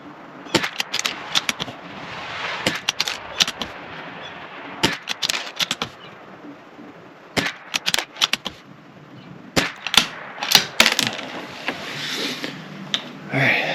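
At an outdoor range, a Bergara B-14R .22 rifle fires standard-velocity rimfire rounds (SK Standard Plus and CCI Standard), producing sharp, loud single cracks spaced irregularly, with some quick doubled shots and lighter handling clicks between them.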